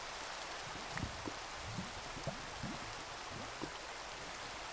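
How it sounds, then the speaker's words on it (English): Steady rain falling in a Minecraft-style block game, a soft continuous hiss of drops with occasional faint low patters, even and unbroken throughout. "Hopefully this rain will be gone by the time we go to sleep."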